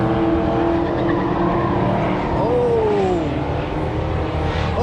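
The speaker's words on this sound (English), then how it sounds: "Brody just fucking spun out." A car spins out on a race track at a car meet, tires squealing in a rising, sliding skid over steady engine roar, loud and close.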